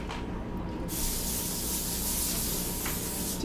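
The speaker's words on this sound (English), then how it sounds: "I think we're gonna spray this a little bit." Cooking spray hisses onto a pie crust in short bursts, a close steady spray followed by a second brief puff, with no talking.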